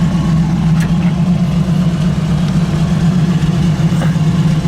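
A 1965 Buick Riviera's 401 engine idles with a steady, smooth low rumble, loud and close throughout without any talking.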